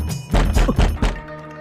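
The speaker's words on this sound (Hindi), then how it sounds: "पिताजी दरवाजा क्यों खटखटा रहे हैं?" Several firm knocks on a wooden door in a quick cluster of about four thuds, close and loud, with no talking over them, in a comedy scene.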